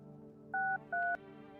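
Two short telephone keypad tones sound in a video game, each held briefly with a small gap between them, over a steady low background hum.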